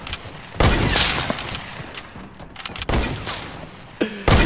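Bursts of gunfire from a Fortnite creative-mode match, loud and close, come in several sharp clusters with quieter gaps between them and a final rapid burst at the end.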